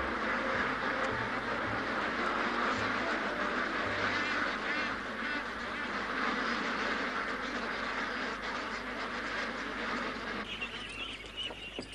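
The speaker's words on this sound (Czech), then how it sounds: "Kachny." Ducks quacking in a noisy flock, a continuous overlapping chorus of close, loud quacks with a few honking calls mixed in and no talking.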